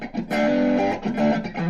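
Gritty overdriven electric guitar played through an Ibanez IBZ10G practice amp in gain mode, with strummed chords ringing loud and sustained, each one fading before the next is struck.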